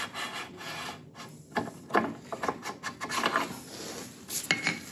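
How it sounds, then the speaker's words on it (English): Metal axle sliding out of the rear wheel of a Kawasaki Versys motorcycle during chain and sprocket work, heard as a series of close scraping, rubbing and grinding strokes with a few light metallic clinks. "Carefully remove this rear axle"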